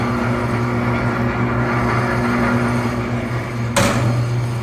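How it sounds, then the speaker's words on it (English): A Davis 750 lb seed and feed mixer runs with a steady, loud mechanical hum and whir from its turning mixing chamber, close by, with a brief clank near the end. "We will look inside the mixing chamber here. See that whirring around as it should."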